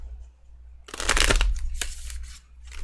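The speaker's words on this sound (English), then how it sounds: "Apparently I can't shuffle." Tarot cards shuffled in a burst of rapid riffling and flicking, loud and close, followed by a few shorter shuffle bursts with brief pauses between them, no talking over it.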